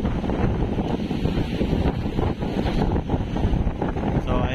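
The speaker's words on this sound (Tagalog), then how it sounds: "Malaki na po yung tubig dagat. Kaya tapos ay plus yung alon pa po ng dagat." Wind and rough sea surge batter the flooded port of Dinagat during Super Typhoon Pepito, a loud, constant roar of gusts and churning waves with no break, close to the microphone.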